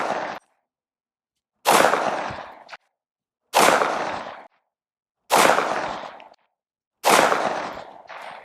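Four sharp, loud gunshots from an unsuppressed M&P 5.7 pistol firing Fiocchi 40 grain rounds, spaced about two seconds apart, each a close crack followed by a short decaying echo, with silence between shots.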